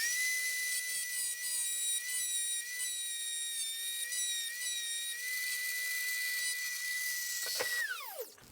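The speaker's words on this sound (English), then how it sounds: "we're going to start off by just grinding down where this metal piece is" A rotary grinder cuts down the metal ring on a Walbro 255 fuel pump's filter sock plate. It gives a steady, piercing high whine for several seconds, then spins down in a falling tone at the end.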